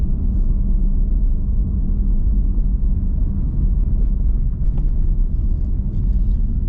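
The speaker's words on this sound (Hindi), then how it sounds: "इस वक्त ट्रैफिक, सुबह का टाइम है ना, 8:26 हो चुके हैं और ट्रैफिक दबा के है इस वक्त" Heavy morning road traffic at 8:26 near a station, a steady loud low rumble of engines filling the whole stretch with no breaks, with faint higher sounds briefly poking through.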